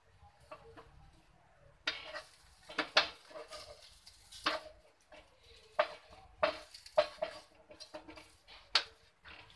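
Cauliflower pancakes are flipped in a non-stick pan, giving a series of sharp scraping and tapping clicks from the spatula over a faint sizzle, irregular and close.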